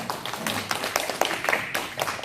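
Congregation clapping hands together in a church service, a dense patter of many claps spread across the clip, fairly close and steady with no one speaking.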